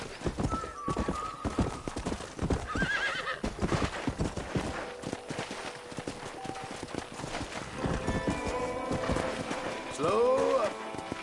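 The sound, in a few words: horse galloping in video game Red Dead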